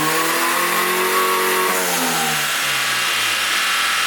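A turbocharged Honda engine roars on a dyno in 3rd gear at about 5 PSI of boost, its pitch climbing steadily through a loud, close pull, with no talking.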